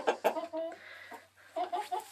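A rooster clucks in short, throaty bursts close by, a few quick clucks, a brief pause, then more.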